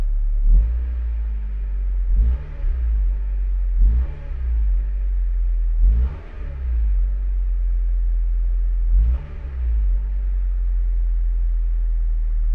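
A car engine, one undergoing fuel injector cleaning, idles low and is revved five times in a steady rhythm, each rev a short rising surge that falls back to idle, close and alone.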